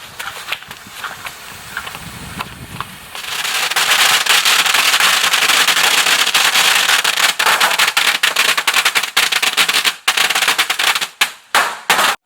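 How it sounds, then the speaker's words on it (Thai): Long string of firecrackers set off at Sattahip, rapid dense crackling bursts going on for several seconds, loud and close, with irregular pops trailing off near the end. "จุดประทัดเสร็จแล้ว"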